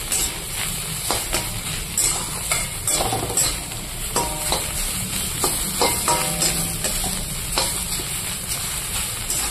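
Food frying with black cumin and chopped coriander leaves being stirred in a pan, a continuous close sizzle with repeated scraping strokes of the spatula throughout, no talking.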